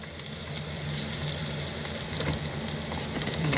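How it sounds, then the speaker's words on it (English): Onions sautéing in a pan at an off-grid campsite, a steady close sizzle and crackle of frying that holds evenly throughout with no voices. "So we're just gonna saute these onions first."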